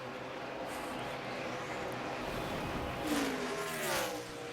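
2008 NASCAR Sprint Cup stock car practicing at Dover, a steady engine drone at a distance swelling briefly as the car passes, with a commentator talking over it.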